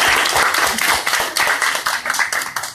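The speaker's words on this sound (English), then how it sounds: "round of applause for the interns and Pixel" An indoor audience at a community showcase and celebration bursts into applause, a dense, close wash of many hands clapping steadily for a few seconds before tapering off.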